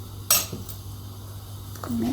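A utensil clinks and scrapes against a frying pan as 1 to 2 teaspoons of oil are spread across it before eggs go in: a sharp clatter near the start and softer taps later, close and fairly quiet.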